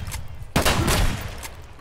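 Gunfire in the video game Escape From Tarkov, a sudden loud burst of rapid shots that rings out and decays over about a second.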